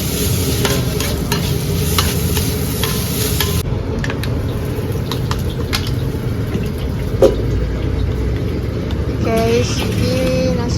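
Nasi goreng is stirred and fried in a pan, a continuous loud sizzle with repeated scraping strokes of the spatula, and brief background noise near the end.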